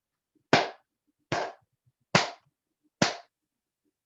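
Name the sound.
four hand claps in Aikido class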